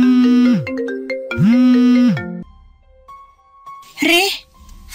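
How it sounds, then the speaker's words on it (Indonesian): A melodic mobile phone ringtone plays in two loud chiming phrases, then stops; a faint tone follows before a brief voice answers. "tiba-tiba ponsel Ari berdering"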